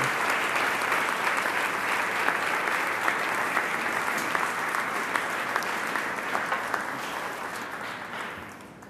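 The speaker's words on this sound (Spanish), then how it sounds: "Vamos pues a ponernos de pie y darle un gran aplauso al Señor." A church congregation applauds steadily and loudly for several seconds, the clapping dense and continuous before tapering off at the end.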